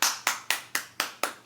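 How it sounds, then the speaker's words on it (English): One person claps slowly and evenly, seven crisp, close hand claps in a steady rhythm with no other sound around them. "Clap it up for Dr. W."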